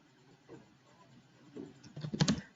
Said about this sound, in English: For that we will type